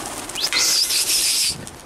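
White pigeons flap their wings in a burst of rapid beating and fluttering on a small rooftop, loud and close, with a brief chirp-like sweep at the start and the wing noise fading out after about a second.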